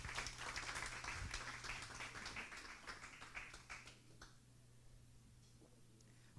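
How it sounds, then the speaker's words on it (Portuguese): Audience applause welcoming a teacher to the front at a Bible-study class in a church, a broad patter of many hands that fades to quiet within about four seconds over a steady low hum. "você recebe com aplauso"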